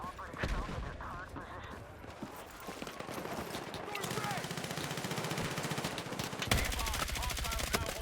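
Rapid automatic gunfire in the video game Battlefield 6, dense rattling bursts that keep up throughout at close range, with someone talking over the shooting.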